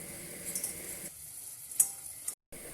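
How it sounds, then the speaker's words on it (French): Butter and flour cooking together in a pan for a béchamel, giving a soft sizzle with stirring scrapes that drops quieter partway, then a brief silent gap near the end. "À côté, on vient faire fondre le beurre. On y ajoute la farine."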